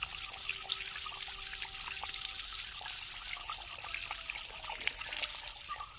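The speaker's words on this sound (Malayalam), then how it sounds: "ഇത് നമുക്കിനി വാഷ് ചെയ്തിട്ട് എടുക്കാം." Aloe vera leaves rinsed under a running tap, a steady close trickle and splash of flowing water with faint handling clicks, no talk.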